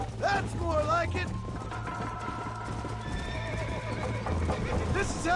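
A horse gallops with rapid clip-clopping hooves and lets out several neighs in the video game Red Dead Redemption, with speech from characters running over the hoofbeats.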